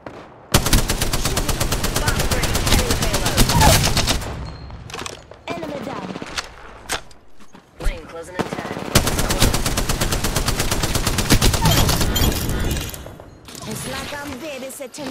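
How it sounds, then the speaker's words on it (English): Rapid automatic gunfire in the battle royale game Apex Legends, loud dense bursts broken by brief gaps, with a voice speaking between volleys. "Listen up, I'm getting shot at."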